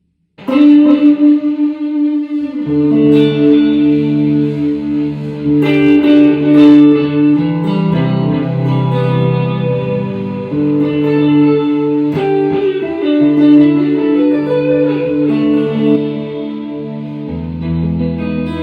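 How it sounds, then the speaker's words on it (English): Guitar played through a bit crusher pedal, chords and notes sounding crunchy and degraded with a fuzzy, buzzing texture. "I'll play a sample of the Bit Crushed thing just so you can get the feel of what it does"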